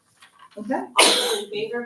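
A single loud, sharp sneeze bursts out in a board meeting room, right after a person speaks a few words and followed by more talk.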